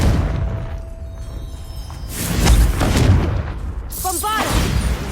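Confringo spell explosion in the video game Hogwarts Legacy, a loud, deep, booming blast that rumbles for a couple of seconds amid game sound effects, followed by a brief voice.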